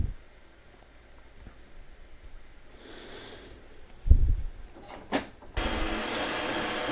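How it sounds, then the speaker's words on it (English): A toy fighter jet's small motor kicks in with a few short mechanical bursts, then settles into a steady whirring buzz near the end, close and moderately loud. "So what you can see is the motor starts up"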